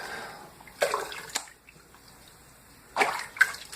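A mesh bag of grains is dipped into hot brewing water in a kettle for a beer extract kit, making two short splashing sloshes with quiet water movement between them.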